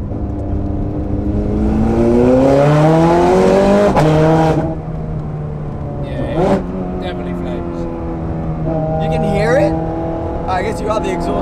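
A Ferrari 430 Scuderia engine revs up loudly with a rising exhaust roar, then settles to a rumbling idle punctuated by sharp blips and pops.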